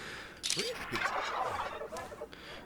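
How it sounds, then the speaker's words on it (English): Several turkeys in a video game gobble together in a rattling chorus, fairly close, filling the moment with overlapping warbling calls. "and we got these turkeys coming around"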